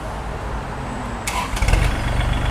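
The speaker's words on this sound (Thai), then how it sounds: "รถสตาร์ทติดง่ายนะคะ" A Kubota L3218 tractor's diesel engine cranks and catches, a sudden burst of starter noise followed by a low, steady rumble settling into idle, close by with no talking.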